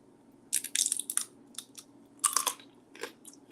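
Crunchy cheese crisps bitten and chewed close to the mic, a burst of sharp brittle crunches followed by irregular chewing cracks over a quiet room hum, with no talking.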